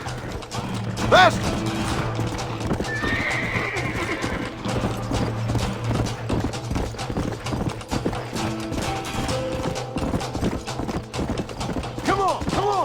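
Horses in the Red Dead Redemption video game whinny loudly and clop their hooves in a steady rhythm, alongside mechanical clattering and a brief crash, while a voice shouts over them.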